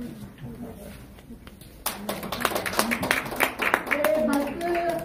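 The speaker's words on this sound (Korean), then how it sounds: "네, 큰 박수로." Clapping from an audience at an annual general meeting of a health-society federation, held in a hall at the Korea Press Center, begins a couple of seconds in and builds into scattered applause under voices.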